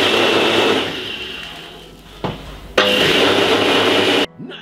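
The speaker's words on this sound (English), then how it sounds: "blend it for about 4 to 5 minutes" A Ninja blender whirs loudly as it blends a milk and spinach smoothie, a steady roar that dips midway, surges back, then stops abruptly.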